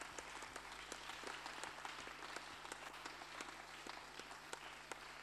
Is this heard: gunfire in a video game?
no